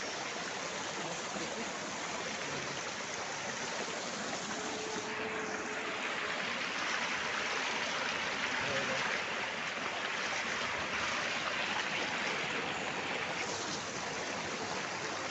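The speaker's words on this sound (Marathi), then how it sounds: "मस्त खळखळणारं पाणी वाहत आहे" Water flows in a continuous, even rush from a babbling village stream in the Konkan countryside, heard close and steady for the whole stretch.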